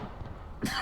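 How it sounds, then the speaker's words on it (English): A single short cough or throat-clear bursts out close to the mic after a stretch of quiet background hum during an online War of Rights battle session. "Man, that cough snuck up on me."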